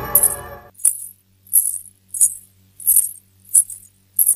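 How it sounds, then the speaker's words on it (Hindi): Anklet bells (payal) jingle in six or seven evenly spaced bright shimmering bursts, each followed by a short silence, as if from slow footsteps, with a faint low hum underneath and a brief voice at the start. "ये तो पायल की आवाज है"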